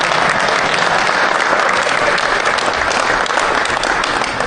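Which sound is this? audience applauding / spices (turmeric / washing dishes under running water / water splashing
audience applauding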